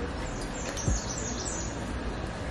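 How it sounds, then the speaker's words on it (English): Recorded bird sounds play from an Alexa smart speaker during an early morning routine: faint, scattered high chirps and tweets over a steady hiss of room noise. "play bird sounds"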